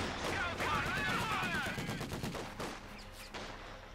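Rapid bursts of rifle and machine-gun fire crackle through a Stalingrad battle in the World War II strategy game Company of Heroes 2. Dense volleys and whizzing ricochets come first, then sparser shots.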